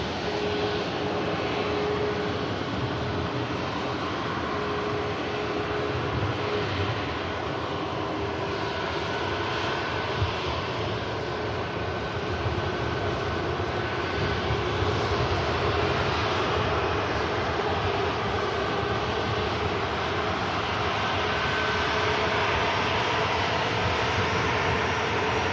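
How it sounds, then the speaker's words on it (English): A Ryanair jet taxis at Manchester Airport in the rain, its engines giving a steady, loud, continuous roar and whine that holds level throughout with no talk over it. "Ryanair now on the move. And on the taxi out, we have a Jet2"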